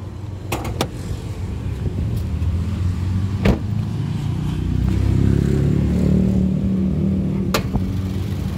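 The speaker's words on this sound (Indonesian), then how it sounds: "Suara mesinnya juga masih halus" A 2010 Toyota Yaris E manual hatchback idles with its engine exposed, a low, smooth rumble that swells slightly, broken by a few sharp clicks, with no speech.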